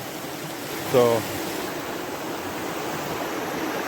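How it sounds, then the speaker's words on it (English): A creek flows steadily at night as a continuous broadband rush, with a brief spoken word near the start. "I gotta cross this creek"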